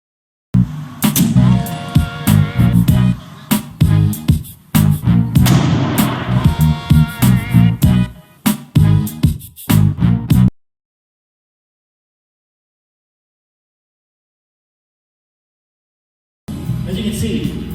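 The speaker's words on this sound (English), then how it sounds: "they shoot it into the dome and it doesn't penetrate" Rounds of gunfire hit an aircrete dome, a rapid series of loud, close bangs and impacts for about ten seconds, then silence before another burst of noisy sound.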